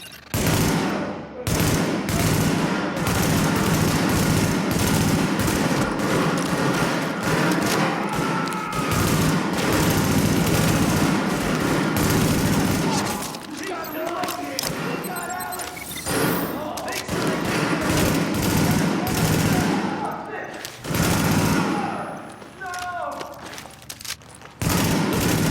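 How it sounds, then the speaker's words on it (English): Heavy gunfire in the video game The Division fills the scene with loud, dense, sustained bursts and thuds from a rooftop firefight that barely let up. Game dialogue talks over it in places. "The escort party's taking heavy fire from the roof."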